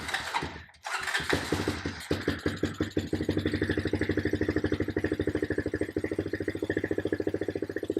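A quad ATV engine catches after a carburetor tune-up, sputtering unevenly at first and then settling into a steady, fast, loud idle with a throbbing pulse, recorded close up.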